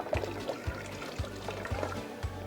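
Hot water draining from sterilized canning jars lifted out of a water bath, a series of short pours and splashes repeating about every half second, close and clear.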